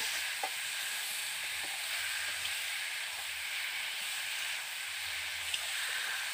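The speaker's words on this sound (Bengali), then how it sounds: "আলু আর পটলটাকে দিয়ে আমি আবারও ভালো করে কষিয়ে নেব।" Fried potatoes and pointed gourd sizzle and hiss steadily in hot oil with spices in a pan as they are stirred, a continuous close frying sound with faint scraping of the spoon and no talking.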